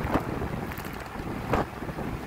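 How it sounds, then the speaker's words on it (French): Strong wind buffets the microphone during a night bicycle ride, a continuous rough rumble with two louder gusts swelling partway through, no voices. "j'entends le vent avec une force"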